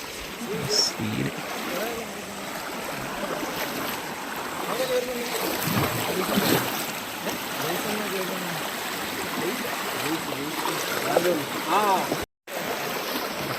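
A river rushing steadily nearby, its broad flowing wash continuous and fairly loud, with voices talking over the water.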